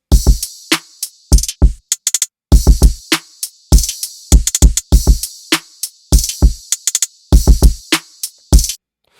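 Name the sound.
drum loop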